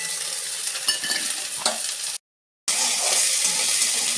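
Apple snails stirred through fried spices in a hot pan, a loud, close sizzle with scraping stirring strokes, cut by a brief silent gap before the frying hiss resumes.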